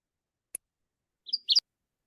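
Northern waterthrush song: a faint, sparse recording with one thin high chip, then a short pair of sharp, bright whistled notes near the end, set against silence.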